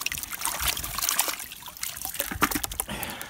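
Freshly dug Solent Wight garlic bulbs being washed in water, giving a steady trickling, dribbling splash of liquid close by, with small irregular splashes throughout and no talking.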